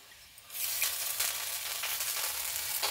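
Ginger dropped into hot oil with garlic for a bathua dal tempering, a quiet pan suddenly bursting into a bright, steady sizzle that continues close and even.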